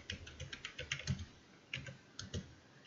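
Close, quiet keystrokes on a computer keyboard in short irregular bursts with brief pauses between them, with no voices.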